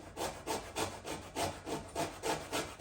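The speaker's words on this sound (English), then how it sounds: "I'm going to grate a bit of the orange." A citrus fruit rubbed over a kitchen grater to zest it for spiced cranberry-walnut bread, about nine even rasping strokes in a steady rhythm, close and fairly loud with no talking.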